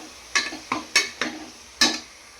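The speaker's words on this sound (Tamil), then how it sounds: "நல்லா கிண்டி விட்டுக்கலாம்." A spoon stirs beans, carrots and peas in a pan for veg biryani, making five quick, separate scraping strokes against the metal, close up and alone.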